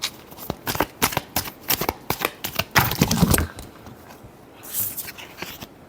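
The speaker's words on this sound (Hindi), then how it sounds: "एक शफल और हम करेंगे।" Tarot cards being shuffled by hand: a fast run of crisp riffling flicks and slaps for about three seconds, then a softer, quieter sliding rustle near the close, with no talking.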